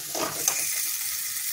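Spice paste with turmeric, yogurt and potatoes for a Bengali curry sizzles steadily in a pan, a close, continuous frying hiss with a brief scrape of stirring early on.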